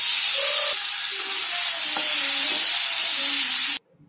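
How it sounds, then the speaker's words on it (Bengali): Potatoes fry in a pan with turmeric for a pointed gourd and potato vegetable dish, giving a loud, even sizzle that runs unbroken, then cuts off abruptly near the end. "আলুগুলোও ভেজে নেব"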